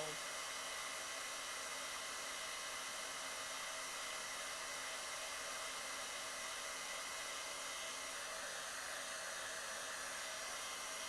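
A heat embossing tool blows steadily for about eleven seconds, melting gold embossing powder on a card stamped with a honey bee design; a constant, fairly quiet broadband whoosh with no talking.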